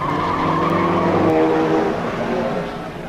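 Two rally cars brake hard into a hairpin, engines loud and close as they downshift, the revs dropping with a tire scrub as the cars slow through the bend.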